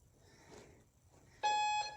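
A workout timer gives a loud electronic beep, one sustained tone lasting under half a second, following quiet breathy background during a live core exercise session.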